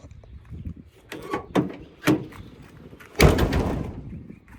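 A 2006 Ford F350 Lariat pickup with a 6.0 Powerstroke diesel has its door shut in one solid, close thump, after a few lighter clicks and handling knocks.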